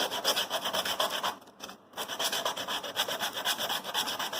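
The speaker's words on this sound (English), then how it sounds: "now the sandpaper, this rough edge," Sandpaper rasping back and forth over a rough cut edge of a DIY canister filter part, steady close scraping strokes with a brief pause midway, no voices.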